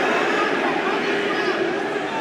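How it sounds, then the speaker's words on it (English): Crowd yelling and roaring steadily throughout at a live grappling fight between John Maguire and Justin Edwards, a dense, loud wall of voices with commentary talk over it. "You hear that crowd yelling knees."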